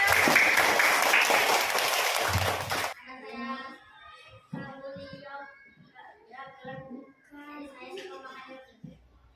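Classroom children clapping together for a classmate, a dense burst of young hands lasting a few seconds before cutting off, followed by children and a teacher talking.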